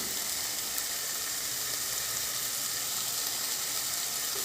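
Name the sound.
chicken and spices frying in a pan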